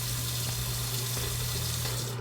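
Tap water runs steadily into a sink with a constant, close splashing rush and a low hum, continuing unbroken throughout.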